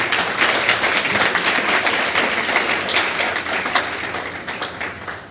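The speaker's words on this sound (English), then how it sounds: "Kindly give them a round of applause" Sustained audience applause for the panelists at a youth development forum, a dense, steady wash of many hands clapping that holds for several seconds and tapers slightly near the end.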